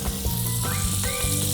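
Garlic and shallots sizzle in a generous pool of butter in a pan, a steady close crackle and hiss holding evenly for a moment with no talking over it.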